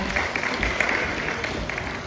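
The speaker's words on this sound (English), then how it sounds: "Give him a clap." Outdoor audience clapping at a Flamingo Land bird show after an owl's flight, a short, even burst of many hands at close-to-moderate distance, with a faint whistle-like tone running through it.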